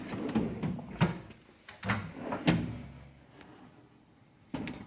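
A few dull knocks and rattles as a garage tool drawer full of pliers slides open, its contents shifting, followed by a quieter pause and one more clunk at the end.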